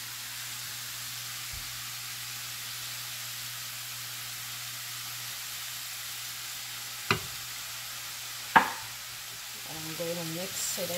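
Cauliflower fried rice sizzles faintly in a pan as seasoning is stirred in, a soft steady hiss broken by two sharp clacks of a utensil and louder scraping and stirring near the end.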